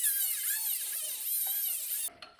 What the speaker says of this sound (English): I'm gonna do is the old Dremel trick of cutting a slot straight across so I can use a flathead screwdriver on it.